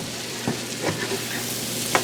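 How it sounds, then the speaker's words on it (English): Onions frying in a skillet that still holds bacon fat, a dense steady sizzle close up with a few soft scrapes of stirring, and no talking. "frying these down, and we want the onions to turn translucent"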